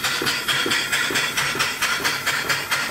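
An antique steam engine with a flyball governor, running on steam with the supply turned up slightly, gives a steady rhythmic chuffing and hiss at a regular beat of about two strokes per second, close and loud with no talk.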